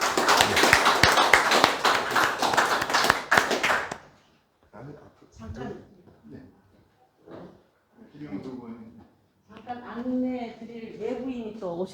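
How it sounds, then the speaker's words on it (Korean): Audience clapping to welcome a speaker at a political forum, a loud crowded burst lasting about four seconds, then cut off, followed by someone talking alone in a quiet room. "박수로 한번 맞아주시기 바라겠습니다."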